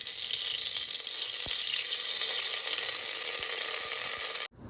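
Ghee sizzles steadily in a hot pressure cooker at the start of chicken biryani, a dense, even frying hiss with a few soft clicks, ending abruptly.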